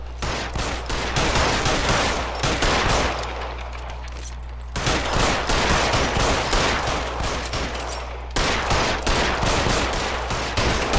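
Sustained gunfire in a shootout from L.A. Noire, loud and dense with rapid overlapping shots and bursts that run continuously across the whole stretch, briefly thinning before resuming.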